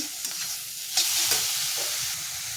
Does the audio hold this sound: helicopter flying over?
no